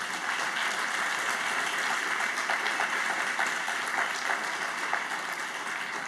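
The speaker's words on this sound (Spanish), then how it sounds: "¿Puedes darle un fuerte aplauso al Rey?" Steady, dense applause from a church congregation during a worship service, even and sustained throughout with no voices over it.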